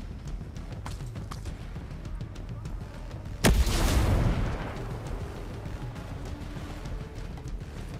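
Grenade explosion in the video game Ghost Recon Breakpoint, one sharp, heavy blast with a rumbling tail lasting about a second, over steady background noise and gunfire.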